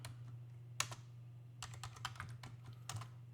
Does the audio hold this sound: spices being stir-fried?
no